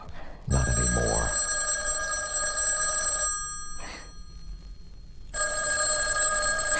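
A telephone rings in a 1979 radio thriller drama, two loud bright electric bell bursts separated by a pause, close up with no talking.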